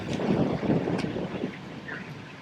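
Outdoor wind buffets the microphone beside an RV while its hydraulic leveling jacks are being worked on, a steady low rumble with gusty surges and no voices.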